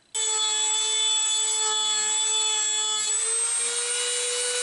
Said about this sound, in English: We've used our Dremel and we've worked almost down to the bottom of this breakout here.